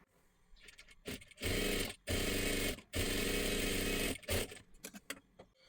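An electric sewing machine stitches along the neckline of a matka-neck blouse in three loud, close bursts of whirring, with short pauses between them and a brief final run.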